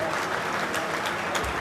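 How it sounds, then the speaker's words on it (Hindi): Audience applause at a gathering with India's Vice President Dhankhar and farmers, a steady dense wash of hand clapping filling the whole moment without pause. "आप सबके करतल ध्वनि के साथ"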